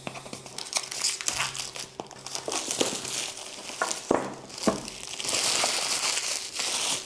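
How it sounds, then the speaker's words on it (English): Plastic wrap pulled off an 8BitDo Retro 18 mechanical numpad's packaging, loud close crinkling and tearing in irregular bursts, ending in a sustained rustle. "we do have a wrap that we need to get rid of"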